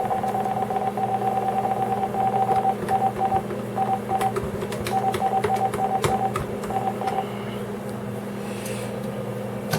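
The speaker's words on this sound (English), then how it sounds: "So it just sits there dialing ones constantly." A VoIP desk phone in mint condition dials ones by itself, sounding a steady, repeated tone in short beeping bursts over a constant background hum, with faint clicks scattered throughout.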